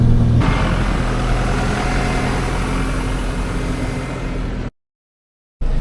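A small farm tractor engine runs steadily and close, a loud continuous low rumble with a constant idle-like drone, then cuts to silence for about a second near the end before resuming.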